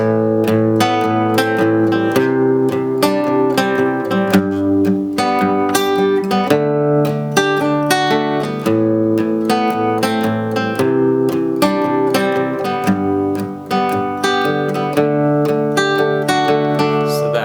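An acoustic guitar strummed briskly with a pick in a steady, repeating rhythm of chords, loud and close, with no talking.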